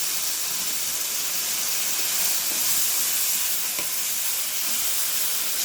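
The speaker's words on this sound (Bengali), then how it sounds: "এবার দিয়ে রাখা মাংসগুলো দিয়ে দিব" Beef pieces hit a hot pan for a Sylheti beef curry cooked with hatkora citrus, giving a steady, close, loud sizzling hiss that holds evenly throughout with no talking.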